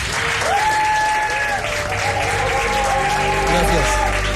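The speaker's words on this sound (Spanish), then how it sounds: "pedir un aplauso para él" An audience at a book fair radio broadcast applauds warmly, steady clapping with a few voices and whoops mixed in, close and sustained.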